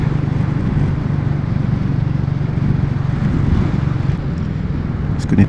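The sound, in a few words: Royal Enfield Classic 350 motorcycle riding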